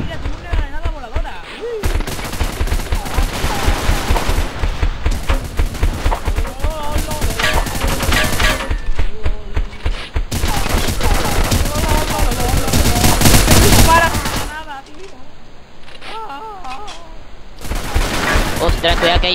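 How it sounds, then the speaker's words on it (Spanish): Video game gunfire: sustained loud rattling bursts of automatic fire filling most of the stretch, dropping briefly before resuming, with excited voices speaking over the shooting. "es que me está disparando"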